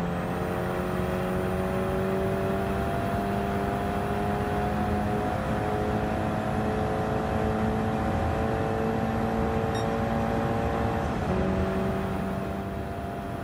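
A race car engine in Gran Turismo 7 at Michelin Raceway Road Atlanta holds a steady high drone in third gear down the straight. Near the end the pitch dips briefly for a gear change, and the engine stays loud throughout.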